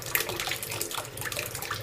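A small 160-size 6VDC mini water pump runs and pumps water, giving a steady splashing, bubbling flow like a filling tub that holds even and fairly loud throughout, with no talk.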